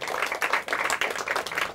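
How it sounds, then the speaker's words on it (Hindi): Audience applause for a quiz team at a school quiz event, a short stretch of steady, dense clapping from many hands without talk. "तालियां हो जाए इनके लिए"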